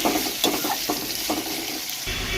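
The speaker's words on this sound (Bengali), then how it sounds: "এরপর আমি আলুটাকে ভালো করে তেলে ভেজে নেব।" Potatoes frying in oil for a vegetarian paneer dish, a soft continuous sizzle broken by several stirring scrapes and clinks of a spoon against the pan.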